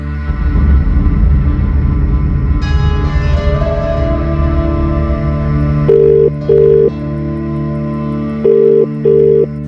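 Electronic tones and a hum lead into a phone's ringback signal, a pulsing tone repeating in short pairs, clear and close with no talking.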